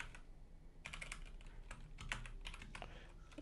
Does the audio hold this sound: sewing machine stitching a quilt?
no